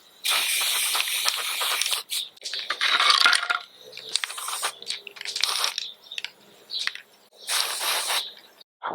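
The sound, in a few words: spraying primer coat onto wood and plastic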